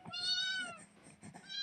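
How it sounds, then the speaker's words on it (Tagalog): A cat meows in a series of close, wavering cries, one running into the next over a quiet indoor background. "Ayan yung pusa."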